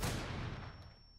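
A grenade explodes in Rainbow Six Siege, a loud close blast that starts at full force and then rolls off into a long, fading rumble, with no talk over it.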